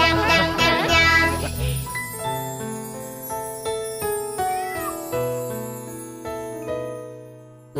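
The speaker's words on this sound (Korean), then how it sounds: "야옹야옹 고양이" Cat meows sung within a children's Christmas carol, set over bright bells and a bouncy backing track, with a lively jingling intro giving way to a steady rhythmic melody.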